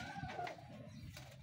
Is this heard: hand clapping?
no